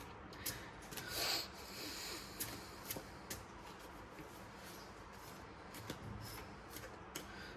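Tarot cards handled at a reading table, heard as soft riffling and rubbing shuffles with light card snaps and taps, quiet and close against a steady low background hiss.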